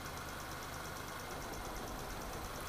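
An engine misfires during an injector test, running with a rough, continuous idle and a faint, uneven knocking pulse.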